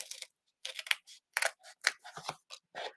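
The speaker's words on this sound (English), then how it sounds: "go ahead and cut this foam sheet" Scissors snip through a foam sheet in short, close, crisp bursts of cutting, separated by brief silent pauses, with no talking.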